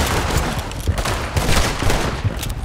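Gunfire in the video game Red Dead Redemption 2, a dense, loud fusillade of overlapping shots cracking in quick succession throughout, with no one talking over it.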